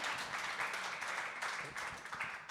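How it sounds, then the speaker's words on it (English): Crowd applause at a Toronto Blue Jays baseball fan event, a brief burst of dense clapping that sounds fairly distant and faint. "Clap for that."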